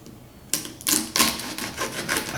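Small serrated knife sawing through a crab shell, a series of close, raspy crunching strokes after a quiet start, each stroke scraping and crackling.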